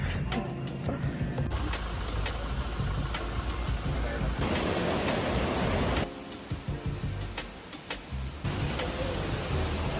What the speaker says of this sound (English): This waterfall is so pretty.